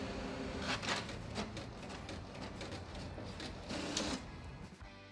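An office printer runs off a test page of a poem on AA-brand paper, a steady mechanical whir and clatter with repeated feed clicks and shuttling bursts, close and continuous with no talk.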